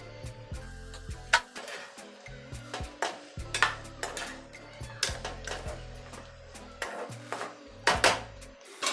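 Onion, green chilli and drumstick pieces frying in a pan, a light sizzle under repeated clinks and scrapes of a spoon stirring against the metal, in an irregular rhythm.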